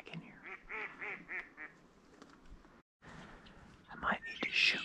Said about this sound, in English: there's mallards and widgeon and teal and stuff mixed in with all these catamals